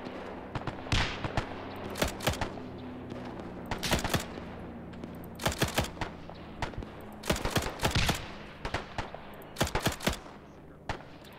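Rapid bursts of gunfire from a World War II video game set at the Battle of Tarawa, loud clustered volleys and machine-gun rattles repeating irregularly over a steady low battle rumble.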